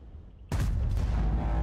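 A single heavy tank cannon shot in World of Tanks booms suddenly after a quiet moment, followed by a loud, rumbling roar that fills the rest of the clip.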